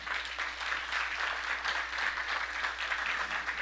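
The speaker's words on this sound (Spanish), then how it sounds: "dele palmas al Señor, hermano" A church congregation claps steadily in rhythm during a Spanish-language Bible study on Exodus, a continuous, fairly even patter of hands with no speech over it.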